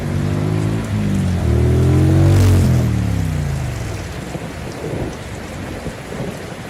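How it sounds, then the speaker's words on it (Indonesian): Heavy rain pours and a loud thunderclap rolls through a Sakura School Simulator game scene, with the rumble swelling near the middle and then easing into steady rainfall. "Sa, hujan."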